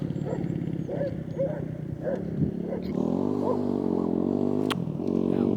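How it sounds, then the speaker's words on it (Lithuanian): A dog barks several times in a quick, irregular series in a cold forest by a frozen lake. Then a motorcycle engine takes over and runs steadily close by on the ice. "Šunys loja"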